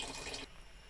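Boiled water poured into a pan while cooking pancit with spaghetti pasta and kangkong, a loud rushing splash for about half a second that then drops to a quieter watery trickle.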